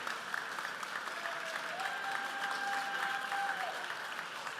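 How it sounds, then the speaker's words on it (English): A round of applause at an awards dinner honoring recipients, heard as steady, fairly faint clapping from a distant crowd, with a thin sustained tone running through the middle. "let's have one more round of applause for all of our honorees"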